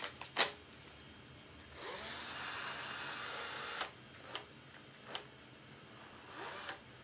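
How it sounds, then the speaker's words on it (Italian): A Bosch cordless drill on a low battery whirs steadily for about two seconds amid scattered clicks and knocks, then stops, followed by a few more handling taps. "In teoria il trapano dovrebbe già funzionare"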